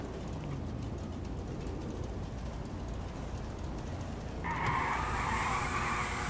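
A Honda motorcycle engine runs at a low idle, then revs up sharply and holds a higher, louder roar near the end, heard from nearby outdoors.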